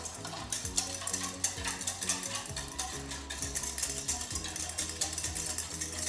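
A whisk beats a pepper sauce mixture of hot or buffalo wing sauce in a bowl, a quick rhythmic clatter of strokes repeating close and fairly quiet, with no talking.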